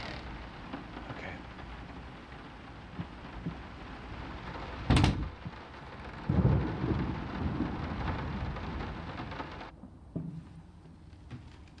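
Rain and rumbling thunder from the horror video game Layers of Fear (2023), with steady rainfall throughout, two loud thunder claps mid-way, and the rain thinning out near the end.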